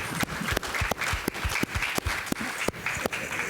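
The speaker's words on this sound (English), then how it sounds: "let's give Karen a round of applause and welcome here." An audience applauds to welcome a speaker at a conference opening session: steady, dense clapping from many hands that holds at an even level throughout.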